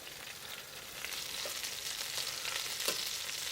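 Fresh cod fillets cook in olive oil with a little butter, giving a continuous close sizzle and crackle that grows slightly louder, with a few soft pops.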